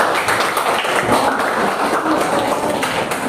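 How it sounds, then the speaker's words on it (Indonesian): Students in a school social studies classroom applaud together, a thick, continuous rattle of clapping hands that stays loud and even for a few seconds. "oke, tepuk tangan, luar biasa"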